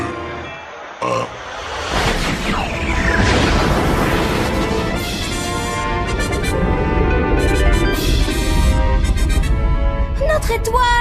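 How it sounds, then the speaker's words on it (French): A cartoon star explodes in a big booming blast that swells into a long rumbling roar with rising whooshes and scattered crackles. Faint cartoonish vocal sounds come through near the end. "Notre grande et belle étoile vient d'exploser en 1000 morceaux!"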